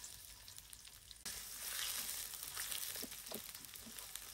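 Onions dropping into about half a cup of hot oil for a nihari tempering, a quiet hiss that jumps into a fuller, continuous sizzle with a few soft stirring scrapes.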